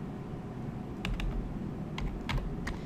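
Someone types a number on a computer keyboard while modeling in Tinkercad, a few quick close key clicks in two short bursts over a low background hum, with no talking.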